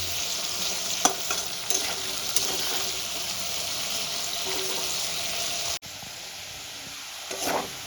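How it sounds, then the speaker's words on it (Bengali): Potatoes seasoned with salt and turmeric frying in a pan, a continuous close sizzle broken by a few scraping stirs and clinks, with no talking. "আলুগুলো আমার এরকম লাল লাল করে আমি ভেজে নেব।"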